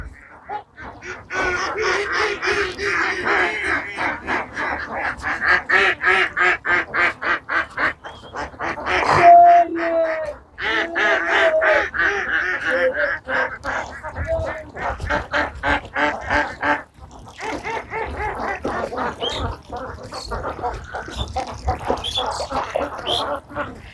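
A flock of ducks moving in long rows quacks loudly and almost nonstop, harsh calls tumbling over one another close by, with brief pauses between bursts.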